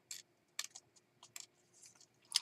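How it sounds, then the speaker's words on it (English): Scissors fussy cut around stamped, watercolored paper in a quiet room, giving a run of small, crisp, close snips at irregular intervals. "I'm just going to quickly fussy cut these"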